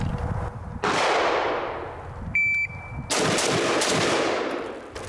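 Rifle shots from a Midwest Industries MI-10F fired on a shooting range, a few loud, close, sharp cracks in quick succession with ringing decay, separated by a brief pause.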